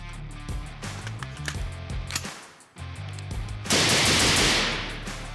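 Rifle rounds fired in quick succession through a Huxworks Flow 556 Ti suppressor produce dull, muffled reports, ending in a louder, sustained rush of noise.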